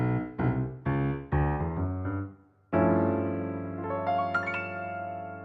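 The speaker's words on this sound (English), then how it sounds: "that's a sharp 11 chord" Piano playing a sharp 11 chord: a run of short separate struck notes leads into a full sustained chord that rings out with a few high notes added on top, close and unaccompanied.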